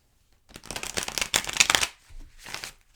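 Tarot cards shuffled by hand in a rapid riffling burst of crisp papery flicks, then a shorter second shuffle, close and clear with no talking.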